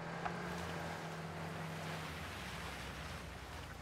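Car driving through flooded rice field water in PUBG on the Taego map, a steady rushing splash and engine rumble held loud throughout with a low drone underneath.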